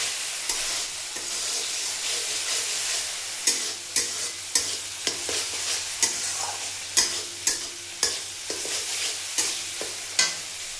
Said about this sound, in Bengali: এটা কষাতে থাকি